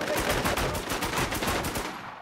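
Sustained automatic gunfire in a shooter video game set in Berlin and Tokyo: a rapid, evenly spaced stream of loud shots that runs for about two seconds before stopping abruptly.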